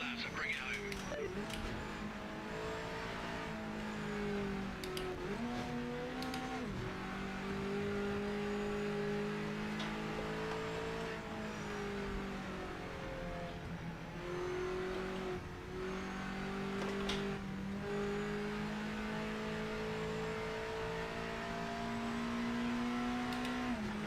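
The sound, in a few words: race car engine from video game Project Motor Racing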